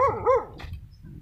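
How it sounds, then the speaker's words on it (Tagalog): A dog barks twice in quick succession at moderate distance, sharp and clear, near a seaside cemetery on an island. "May aso pa."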